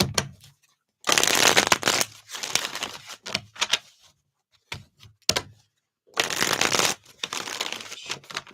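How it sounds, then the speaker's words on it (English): A deck of tarot reading cards shuffled by hand in bursts, crisp riffling rattles close to the mic separated by brief pauses and light taps, with no talk over them. "Shuffle this up here."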